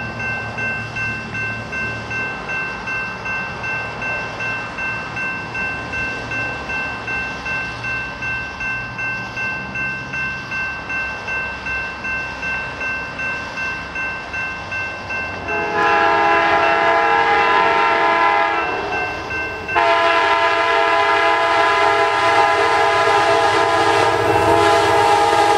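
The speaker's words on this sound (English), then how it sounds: "I believe this is Amtrak." The Amtrak Crescent passenger train passes at night in Mableton, Georgia, its loud horn blaring in long blasts over a building rumble, then wheels clattering steadily as the cars roll by close.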